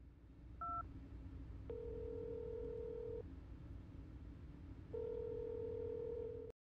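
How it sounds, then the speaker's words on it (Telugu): Telephone dial tone and keypad tones as a phone number is dialed: a brief two-tone beep, then steady tone bursts from the handset, clear and close with no talk. "అదే నెంబర్కి మళ్ళీ కాల్ చేయండి."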